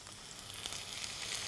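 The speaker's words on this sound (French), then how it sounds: "Là, on sent que ça commence à risoler, ça commence à chanter dans notre casserole" Finely chopped onion fries in olive oil in a saucepan with a steady, soft, close crackling sizzle that holds evenly throughout, with no one speaking.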